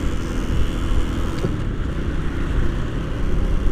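A motorcycle giving off a strange noise while cruising along, heard as a loud, steady engine rumble with road noise throughout and no talking.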